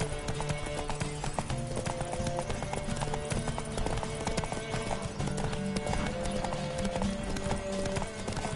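Galloping horse hooves during a horse race in The Witcher video game, a steady rapid clip-clop running throughout with occasional whinnies over game music.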